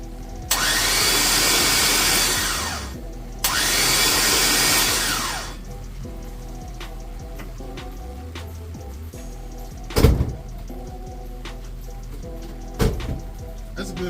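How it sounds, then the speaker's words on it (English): 6.2 engine in a Landau being cranked over by the starter with its spark plugs removed, so there is no compression: two long, loud, even whirring bursts of cranking, then quieter workshop sounds with a couple of sharp clunks. "Hear it crank over. We don't have any spark plugs in it, so that's why it sounds like it doesn't have any compression."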